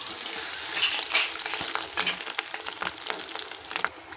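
Fish roe fries in hot oil in a wok, giving a bright, steady sizzle with faint crackles and occasional stirring scrapes, fairly quiet and heard alone.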